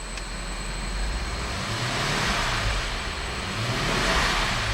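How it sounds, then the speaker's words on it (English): A 2008 Mercedes-Benz GL450 4Matic SUV engine revs up steadily, a rising roar that swells and holds, loud and close with no voices. "I'm going to rev the engine."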